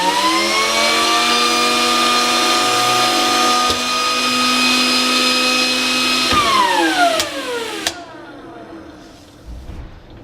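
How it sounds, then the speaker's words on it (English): An automated machine cutting crystalline PV solar cells runs with a loud, steady whine and a vacuum hold-down motor. The pitch then sweeps down sharply as it switches off and spins to a stop, with no voices. "Switch off the vacuum,"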